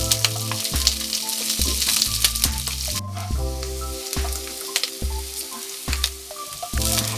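Onion and chopped spring onion frying in oil give off a steady, close, continuous sizzle, with stirring and a low layer of background music beneath.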